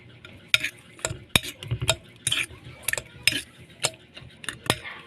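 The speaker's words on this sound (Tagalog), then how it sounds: "Halu-haluin lang natin." A spoon scrapes and clinks irregularly in a bowl while mixing a tortang dulong batter of fresh dulong, pepper, seasoning and a little flour, with quick close clacks at an uneven rhythm.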